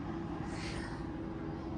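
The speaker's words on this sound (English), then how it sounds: "There's a helicopter going over my house" A helicopter passing over a house, a steady loud rumbling engine drone that holds from start to finish with a brief swell of rotor noise partway through.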